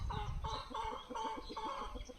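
Chicken clucking in a rhythmic series of short calls, about five bursts over two seconds, fairly close and steady, with no talk over it.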